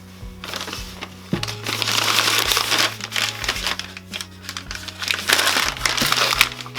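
A paper bag crinkles and rustles loudly, close by, in uneven bursts as wine bottles are slid inside for a blind tasting, with occasional soft thumps and a low hum beneath.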